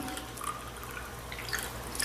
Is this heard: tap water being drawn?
yes